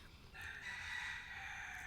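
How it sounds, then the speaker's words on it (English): A rooster crows somewhere in a park, a faint, distant, drawn-out call held steadily for the whole moment over quiet outdoor background. "roosters everywhere. They keep making their presence known."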